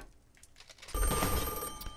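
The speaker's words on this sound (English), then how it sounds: "Ringing phone, but I can't answer it." A telephone rings inside the video game Pinstripe, a loud, bright electronic ring that starts abruptly about halfway through and holds steadily to the end, with no talk over it.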